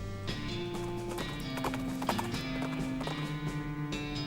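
Horse hooves clip-clop steadily and close in the video game West of Loathing, a sustained rhythmic trot over a musical background with no talking.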